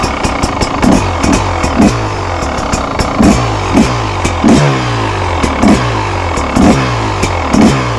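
A KTM 300 XCW two-stroke dirt bike engine runs close by with its choke closed at about 4,000 feet elevation, a steady buzzing idle broken by regular sharp throttle blips roughly every second.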